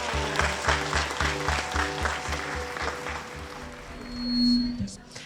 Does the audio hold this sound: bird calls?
no